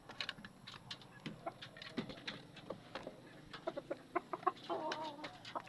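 A six-month-old Talisay gamecock rooster bred for cockfighting clucks in short, repeated bursts, close and fairly loud, with other fowl sounds mixed in around it and no talking.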